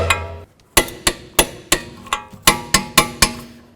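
Nuts being run down on a front wheel bearing of a 2008-12 Chevy Malibu, with about nine sharp, evenly spaced metallic impacts, close and loud, with no talk.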